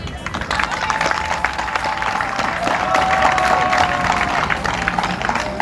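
A crowd applauding at a donation event in Port-Bouët, a dense, moderately loud patter of clapping that continues for several seconds, with faint voices mixed in.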